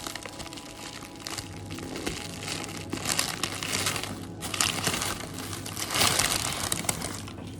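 A package of plant-based, gluten-free protein powder with pea protein and rice flour being torn open and handled, sustained crinkling and rustling of packaging up close, growing louder toward the end.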